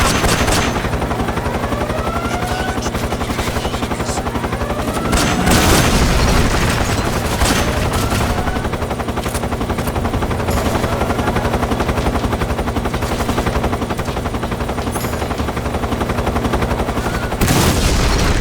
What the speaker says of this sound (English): The helicopter got so annoying, I wanted to try and snipe the pilot out.